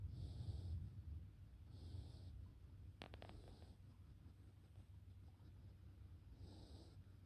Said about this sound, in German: Da schnüffelt die kleine Nase.